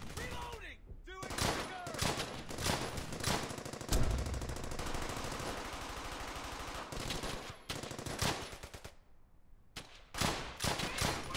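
Automatic and rifle gunfire in the World War II shooter Brothers in Arms: Hell's Highway, with dense, loud bursts and rapid rattling shots through most of the stretch and a few brief lulls, with occasional shouted voices mixed in.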